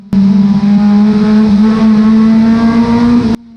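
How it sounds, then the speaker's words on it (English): A small Vauxhall Corsa stock car pushed hard around the Cowdenbeath Racewall oval, its engine held at a steady high-revving drone with strong harmonics, loud and close from on board, running continuously without a break. "Back on board, you can hear just how much he's pushing that little Corsa."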